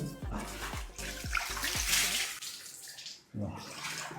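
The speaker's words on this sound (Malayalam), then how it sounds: "ഞാൻ ജസ്റ്റ് ഒന്ന് വെള്ളം ഒഴിച്ചിട്ട് നിങ്ങൾ കാണിക്കാൻ പോവാണ്" Water is poured into a freshly cleaned sink and splashes steadily up close for a few seconds, stops briefly, then starts again, with faint talk over it.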